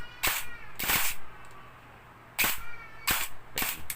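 HK416 airsoft rifle firing short full-auto bursts indoors, several sharp rapid cracks grouped into bursts separated by pauses.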